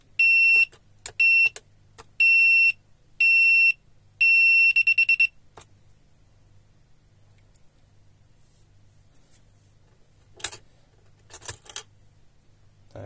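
An electronic airsoft game timer emits loud, shrill beeps in short bursts, then longer tones speeding into a rapid flurry, followed by quiet with a few faint clicks.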